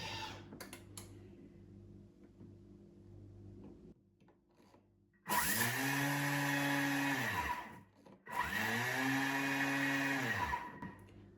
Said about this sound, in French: mixer les graines de sésame